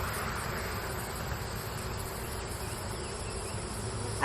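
Honey bees swarm and buzz around an opened hive, a dense, steady hum filling the whole stretch, close and continuous with no one talking.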